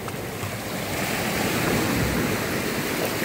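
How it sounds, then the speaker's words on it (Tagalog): Ocean surf rolls onto a beach at a resort, a loud, steady wash of breaking waves with wind buffeting the microphone throughout. "Ang ganda ng hampas ng alon."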